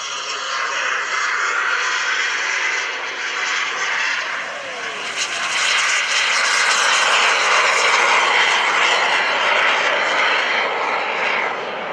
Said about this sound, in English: The engine, by the way, is a PBS TJ100, 260 pounds of thrust.